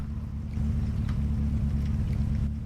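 A deep, steady car engine idle in a racing video game, a continuous low rumble that holds even and loud throughout with no revving.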